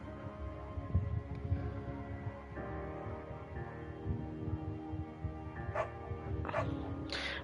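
A dog barks now and then against a busy, steady background of tonal music or household noise, with a few sharper yips standing out near the end.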